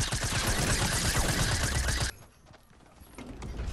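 Rapid pistol shots crack out in Fortnite, a dense, loud volley of gunfire for about two seconds before it cuts off and leaves quieter game sounds.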